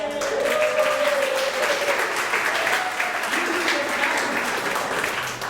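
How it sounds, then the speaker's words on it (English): Sustained applause from a church audience welcoming the pastor, who plays cello, fills the space steadily and evenly, with a faint tonal line and some murmuring beneath it. "Round of applause."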